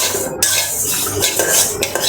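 Moong dal fried and stirred in a pan, a loud close scraping of utensil against metal with clatter and a light sizzle underneath, no voices.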